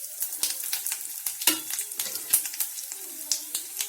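Panch phoron spice mix and dried red chilies sizzle in hot oil for Bengali shukto, with crisp crackling pops and a spoon stirring and scraping the pan at close range.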